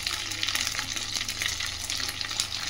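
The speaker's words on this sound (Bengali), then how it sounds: "এবার এখানে আমি টমেটোটাও দিয়ে দিচ্ছি" Tomato goes into hot oil with fried ginger and garlic masala for a pangas fish curry, giving a steady, close, bright sizzle and crackle with small bursts of spitting throughout and no talking.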